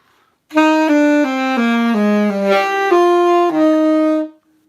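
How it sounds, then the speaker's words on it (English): A saxophone holds a series of stepping notes, the low tones cracking upward into a thin, squeaky higher register instead of sounding cleanly. "the biggest problem people have is the low note starts to squeak up to a high note"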